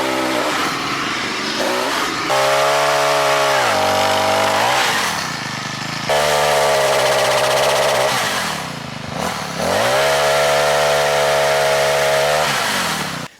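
A Troy-Bilt 4-cycle chainsaw pole pruner trims an apple tree outdoors, its small engine loud and near, revving up and dropping back in three long surges with brief idle dips between, no talking.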